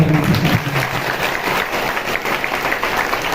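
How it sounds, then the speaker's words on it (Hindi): Congregation at a Hindi-language Christian worship service clapping together, a dense steady wash of applause filling the room, loud and continuous with no voice over it. "ताली बजा के"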